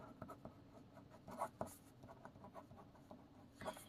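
Chalk or marker writes on a board during a classroom lesson, making faint, close scratching strokes with small taps in an irregular rhythm.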